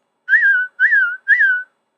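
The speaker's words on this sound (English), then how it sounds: "He whistled," Three clear whistled notes, each a short rising-then-falling tone, evenly spaced and loud, with silence between them.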